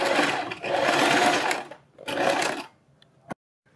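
A sewing machine runs in two bursts, a long one and then a shorter one, while stitching strips onto a neck design beside buckram, followed by a sharp click and silence.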